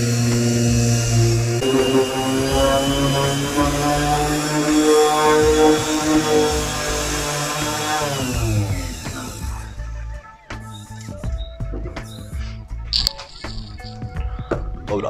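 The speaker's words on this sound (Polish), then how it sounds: "używam Boscha rotacyjną mimośladową GEX 125-1 AE Professionnel" A Bosch GEX 125-1 AE random orbital sander with 180-grit paper works on a toilet door, its loud motor droning steadily and then winding down, followed by scattered clicks and handling knocks.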